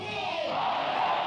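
A stadium crowd in the stands roars nationalist chants during an India flag-lowering ceremony, a massed, sustained shout swelling and rising in pitch as many voices bellow together.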